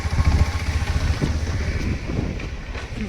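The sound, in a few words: motorcycle riding on road at night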